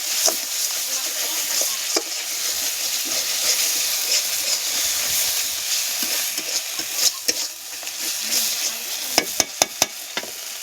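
Masala frying and stirring in a pan, with continuous close sizzling and hissing broken by sharp scraping clicks of the spoon against the pan, louder near the end.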